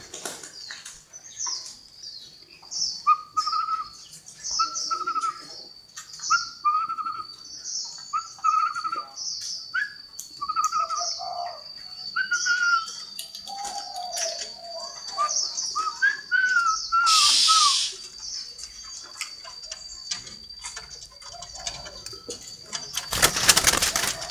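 Caged male spotted doves being kept apart for training coo repeatedly in soft, low rounded phrases, overlapping one another at close range over a steady high insect-like whine, with a brief burst of rustling or flapping near the end.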